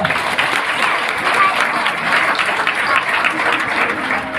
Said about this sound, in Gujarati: આપણે તાળીઓ પાડો ને